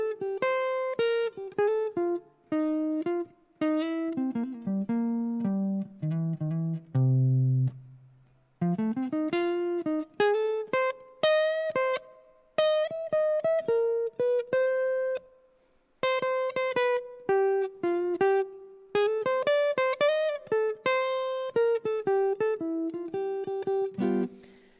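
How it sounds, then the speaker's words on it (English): Clean guitar improvises a solo built on chord tones over blues changes, with melodic single-note phrases and short pauses, played close and alone for about twenty-five seconds. "You can actually make a quite cohesive solo using chord tones."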